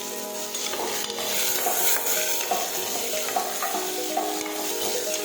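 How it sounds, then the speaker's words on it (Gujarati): Green cowpea beans (lili choli) sautéing in a pan, a steady close sizzle with repeated scraping stirs and light clinks of the spatula against the pan, continuous throughout. "હવે આપણે તોળી નાખી છીએ એને પણ આપણે સાતળી દઈશું"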